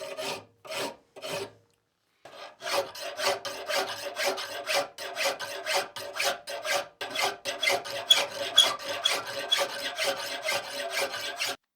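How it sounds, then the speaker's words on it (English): A 10-inch half-round second-cut file rasping along a wooden edge to cut a bevel: three separate strokes, a short pause, then a long run of quick, steady back-and-forth scraping, close and fairly quiet. "I'm just using a single 10-inch half-round second cut file."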